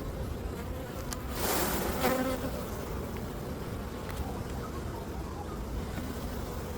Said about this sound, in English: Really fat bees.